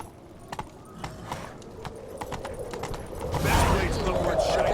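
Horse hooves pound in The Witcher 3 video game, a rapid rhythmic clatter of galloping that builds louder toward the end, mixed with game sounds and occasional speech.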